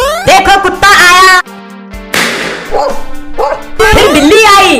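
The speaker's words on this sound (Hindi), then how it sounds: "देखो कुत्ता आया," A dog barks loudly in a playful children's animal game, with cartoonish yaps and yips in bursts over a steady background tone and lively voices.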